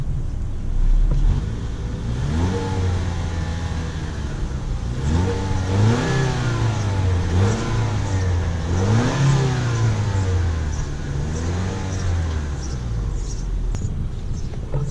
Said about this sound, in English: Let's also hear the exhaust note, because this is a Turbo 4.